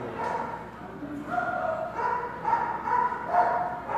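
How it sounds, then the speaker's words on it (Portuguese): Several dogs bark and yip repeatedly at a bocha match, in irregular bursts at moderate distance, mixed with people's voices. "Cachorrada latindo aqui demais."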